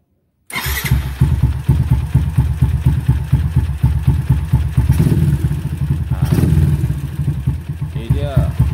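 A bore-up Yamaha Jupiter MX motorcycle engine starts after a brief silence and settles into a steady, close, clattering idle with a short revving swell midway.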